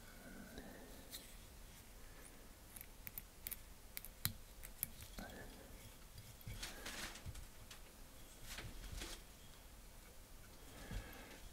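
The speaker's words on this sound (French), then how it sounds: "Je coupe l'excédent." Small scissors snip excess thread at a fly-tying vise while a nymph is being tied, giving a few faint, sharp clicks scattered through a quiet room with no talking.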